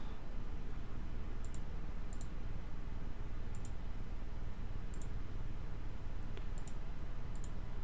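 Computer mouse clicks while stepping through a software installer, sparse single and paired sharp clicks spaced a second or so apart over a steady background hiss.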